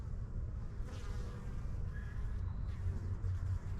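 Honeybees buzz steadily at a hive entrance, a dense, continuous hum close by with individual bees flaring briefly louder as they pass.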